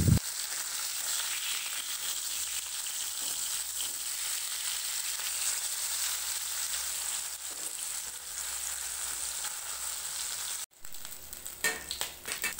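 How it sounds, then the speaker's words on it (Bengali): Fish sizzles loudly and steadily in hot mustard oil, a continuous close frying hiss, with a brief clatter near the end as the pieces are turned over. "মাছের এক পিঠ ভাজা হয়ে গেছে, অন্য পিঠ উল্টে দেব।"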